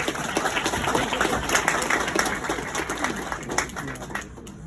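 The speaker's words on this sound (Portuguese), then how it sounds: "Salva de palmas." Dense applause from a lecture audience welcoming a speaker, steady clapping that gradually fades toward the end.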